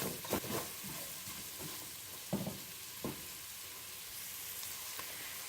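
Onions and carrots fry in a pot, a steady faint sizzle with a few scraping stirs and soft clatters of a spoon, close by and without voices.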